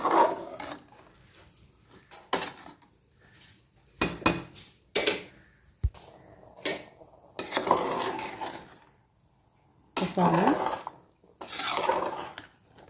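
Rice being stirred into a pot for beef biryani, heard as scattered scraping and clanking of a spoon against the metal pot in short bursts with quiet gaps between, close and moderately loud.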